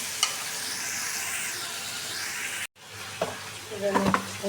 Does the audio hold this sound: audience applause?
no